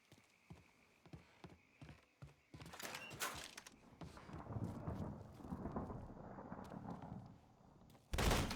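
Gunfire in the Mafia 3 video game during a bank robbery shootout, sharp repeated shots in a quick irregular burst at the start, then a dense roar of heavy fire and explosions, with one loud blast near the end.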